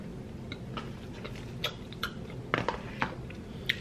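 Someone chews while tasting homemade relish in a home kitchen, giving a series of faint, soft clicking mouth sounds scattered through a quiet room with no talk.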